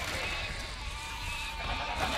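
Sheep bleat in Overlord, a quavering, wavering cry that runs through the short moment amid busy game background noise.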